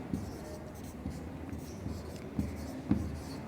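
Chalk or marker strokes on a classroom board as a linear equation is written, faint scratchy taps over room noise.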